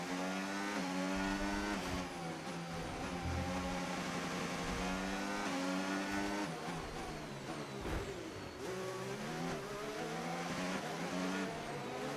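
An F1 race car in the video game F1 25 brakes hard, its steady high engine note stepping down in pitch and dipping briefly mid-run before it carries on, heard alone without talk.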